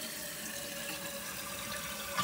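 Water steadily rushing and hissing as a toilet tank refills after a universal toilet kit install, a constant flow heard alone at low level.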